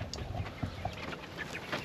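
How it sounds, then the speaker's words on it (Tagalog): Backyard chickens cluck softly and intermittently at feeding time, scattered low clucks and faint scratching over a steady outdoor background. "magpapakain muna tayo ng ating mga alagang manok."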